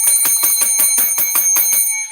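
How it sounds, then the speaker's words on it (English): Small bell rung rapidly about ten times in an even, bright jingling rhythm, close and fairly loud, with a lingering high ring fading at the end. "You get a bell."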